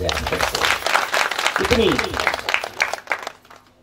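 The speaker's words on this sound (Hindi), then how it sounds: "एक बार मेरे रामायण के लिए भी ताली बजा दिया जाए।" Audience applause during a Hindi Ramayana katha, a broad wash of many hands clapping for a few seconds under a voice, tapering off toward the end.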